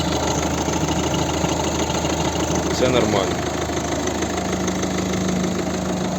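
A 2010 Volvo V50 1.6 HDi diesel engine idles steadily with a low, even rumble, a brief rattling knock in the middle, and someone speaking briefly over it.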